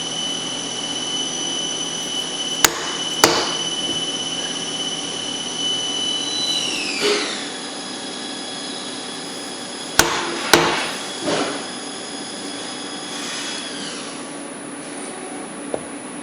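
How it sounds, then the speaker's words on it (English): Sharp metallic hammer taps knock suppressor parts into place, a few isolated strikes spaced seconds apart over a loud steady machine whine and hum in a workshop. "Requires a smart hammer tap to get the parts to fit together."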